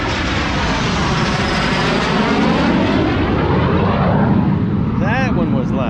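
A fast, loud airplane roars overhead in a steady, continuous rush of engine noise that stays strong throughout, with a brief chirpy sound near the end.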